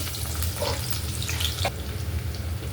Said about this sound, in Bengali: কড়াইটা চুলাতে বসিয়ে দিয়েছি তেল দিয়ে দিলাম দিয়ে দিলাম আস্ত জিরা দিয়ে দেবো রসুন কুচি